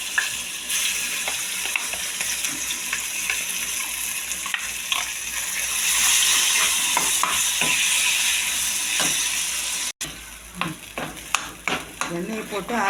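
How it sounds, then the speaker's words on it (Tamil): Ground pirandai thuvaiyal is stirred in hot oil in a pan, giving steady sizzling with repeated scraping and stirring clicks, getting busier and more broken up toward the end. "எண்ணெயை போட்டு அரைச்ச துவையில் போட்டு இந்த மாதிரி கிண்டுங்க"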